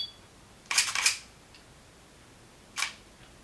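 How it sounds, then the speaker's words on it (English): A Pentax K-50 DSLR fires its shutter in live view: a sharp double-clack mechanical release followed moments later by a second crisp click, close and clear against a quiet room. "Here's an example of the shutter sound that the K-50 produces."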